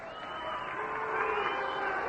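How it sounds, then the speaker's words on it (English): Baseball stadium crowd at the 1948 World Series in Cleveland jeers a runner, a dense sustained roar of many voices that grows slightly louder toward the end. "The crowd is giving him the treatment because of the way he ran into the catcher"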